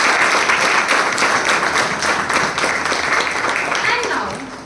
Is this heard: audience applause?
yes